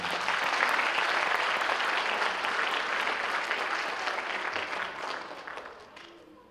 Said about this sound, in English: give a big round of applause for Alejandro Guerra